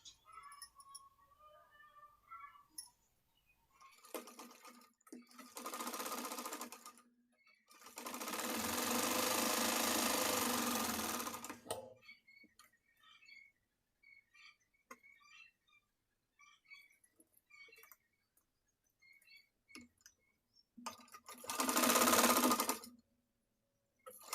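Sewing machine stitching a blouse alteration for a saree, running in short bursts and one longer steady run with quiet pauses and small handling clicks between them.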